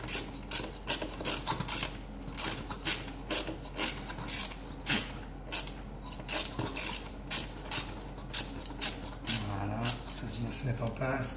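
A hand ratchet clicks in repeated short bursts, close and crisp, while bolts are snugged down on a Nissan GT-R dump valve, with someone talking quietly in French between strokes.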